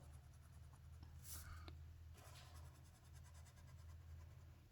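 A fine tip Sharpie marker traces over a pencil drawing, making close, steady scratchy strokes over a low constant hum, with no one speaking.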